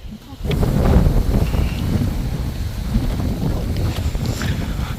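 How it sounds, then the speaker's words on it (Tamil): Strong gusts buffet the microphone on a steep stepped trail up Rangamalai hill, a steady low roar with fluttering bursts that swell early and stay loud throughout, no voices clear above it. "காற்று எப்படி இருக்கு மலையில்?"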